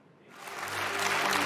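A comedy show audience at iUmor breaks into applause, the clapping swelling quickly from near silence into a dense, steady wash of hands that fills the room.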